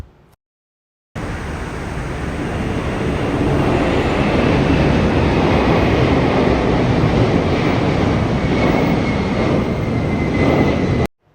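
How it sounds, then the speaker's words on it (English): A jet aircraft at Hong Kong International Airport produces a steady, loud roar that starts abruptly and holds for about ten seconds before cutting off. "As the roar from that jet indicates, we arrived at Hong Kong International Airport."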